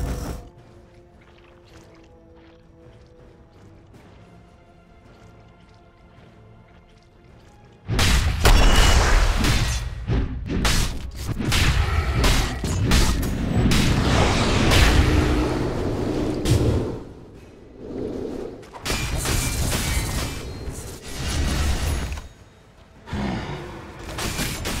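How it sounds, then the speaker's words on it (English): A tower under attack in the video game Dota 2, starting with quiet ambient game sound, then loud sustained battle noise with booming impacts, crashes and clanking mechanisms that surge and dip for the rest of the fight. "Dire's middle tower is under attack."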